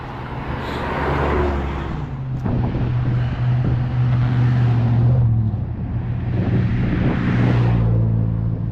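Cars pass steadily along a street in Lewiston, Maine, a continuous engine and tire rumble rising and falling as vehicles go by close, mixed with wind buffeting the microphone.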